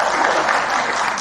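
A loud, close burst of crowd applause from an audience at a talk, a brief dense wash of clapping hands that stays level through the short span.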